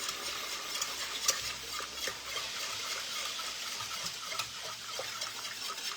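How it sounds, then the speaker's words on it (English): A whisk stirs sugar in a pot for cranberry sauce, a steady fine scraping and swishing with faint ticks of metal against the pan, close and alone without speech. "A little whisk out here."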